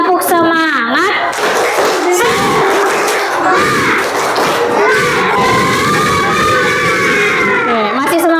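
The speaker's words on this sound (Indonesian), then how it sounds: "1, 2, 3, tepuk semangat." A classroom of children shouts a rhythmic spirit chant in unison, loud and close, with clapping mixed into the continuous group voices.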